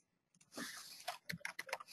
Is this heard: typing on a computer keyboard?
yes